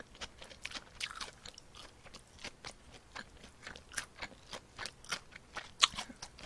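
Someone eats pork belly salad up close, with crisp, repeated bites and crunchy chewing in an uneven rhythm, punctuated by louder crunches and no talking.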